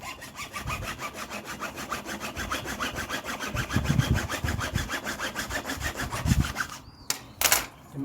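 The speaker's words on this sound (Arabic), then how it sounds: "نحتاجو واحد المنشار باش نقطعوه." A hand saw cutting through a piece of wood, with rapid regular back-and-forth rasping strokes close by that stop near the end, followed by a couple of brief knocks.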